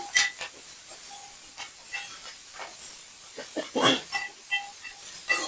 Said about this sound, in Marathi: मेथीला मसाल्यात आणि तेलामध्ये अशी थोडीशी छान अशी परतून घ्यायची आहे आपल्याला